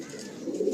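Pigeons cooing in a loft, a low soft burbling coo heard close and continuous through a short moment.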